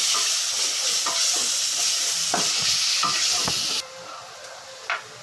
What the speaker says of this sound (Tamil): அது கொஞ்ச நேரம் வதக்கணும். பச்சை வாடை போகிற வரைக்கும் வதக்குங்க.